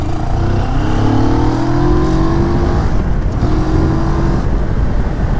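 A 2023 CFMOTO 650 NK roadster engine revs on a test ride, a loud close drone with harmonics sweeping upward as the revs climb, mixed with wind rush and no talking.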